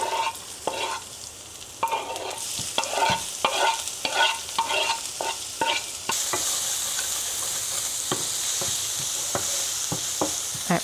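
Food frying in a pan with olive oil sizzles steadily while a utensil stirs and scrapes in repeated clacks, the sizzle brightening partway through.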